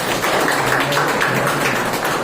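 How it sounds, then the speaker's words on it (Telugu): An audience claps together at a public talk about agriculture and farmers, producing a dense, steady wash of applause that runs loud and unbroken throughout. "అవునా? చప్పట్లు కొట్టండి."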